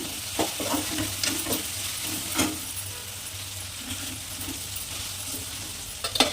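A cauliflower and prawn masala curry simmers and sizzles in a pan, with scattered stirring scrapes and a few sharp clinks over a low steady hiss, no talking.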